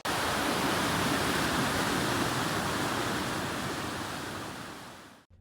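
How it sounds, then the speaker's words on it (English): River water and waterfalls rush in a loud, steady, broadband roar after heavy winter rain in hilly country, filling the whole scene with no talking before fading slightly at the end. "The noise from all this water was incredible."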